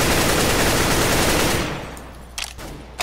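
Automatic gunfire in the video game CS:GO: a loud, dense, continuous spray for about a second and a half that tails off, followed by a couple of short separate shots.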